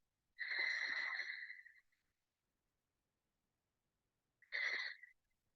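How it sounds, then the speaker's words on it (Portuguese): Ujjayi yoga breathing with a soft whispering, hissy airflow: two breaths, a longer one of about a second and a half, a pause, then a shorter one, close and quiet with silence between. "Quem consegue e conhece a respiração Ujjayi do som sussurrante, pode fazer ela."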